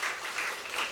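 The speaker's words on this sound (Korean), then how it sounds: "우리 찬양대석에 앉아있는 어린이들 우리 박수로 한번 격려합시다." A church congregation applauds a children's choir at an evening service of a summer church retreat, with a steady wash of clapping through a brief moment.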